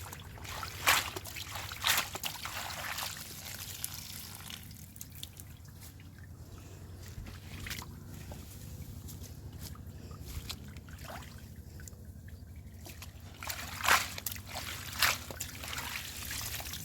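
Tomato seeds being washed in water give soft, intermittent drips, trickles and small splashes, faint and close. A few louder sloshes break the quiet, with no talk.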